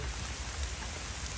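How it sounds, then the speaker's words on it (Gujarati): Rain falls steadily on a cattle farm, an even, dense patter that stays close and unbroken, with no voices over it. "જો ભાઈ વરસાદ મસ્ત મજાનો થઈ ગયો"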